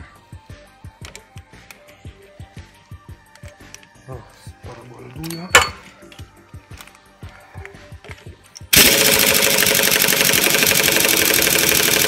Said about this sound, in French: Là, on va prendre le pistolet pneumatique.